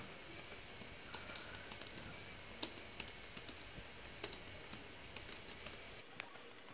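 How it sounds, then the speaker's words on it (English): Quiet, rapid typing on a computer keyboard at an office desk, with small irregular key clicks running steadily throughout and no talk. "Next, let us type in some wordings."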